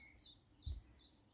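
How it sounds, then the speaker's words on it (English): Faint, brief bird chirps outdoors, a few thin calls over a quiet background with a soft low thump. "Can you hear the birds?"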